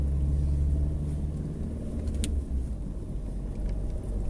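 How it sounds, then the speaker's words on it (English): Cars driven by fans roll past along a road near a retirement village, a steady loud engine and tyre rumble throughout with no talk. "Some of our fans driving past"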